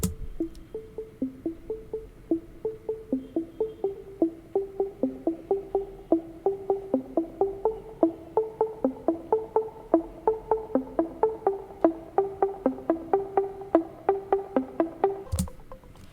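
A rapid stream of short synth plucks in a steady, repeating pattern, their tone slowly brightening and darkening under filter automation, running continuously and fairly quietly with a sharp burst near the end.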